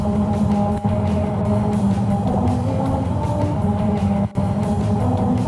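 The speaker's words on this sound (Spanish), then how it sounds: "Vas circulando por ellas y el relieve hace que suene música." A car's tires roll over a musical road's grooved pavement, producing a steady droning tone layered over rumbling road noise, with two brief dropouts.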